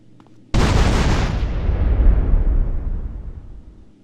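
Bombs planted on two generators detonating in GTA San Andreas, one sudden loud blast followed by a long rumbling roar that slowly fades over several seconds.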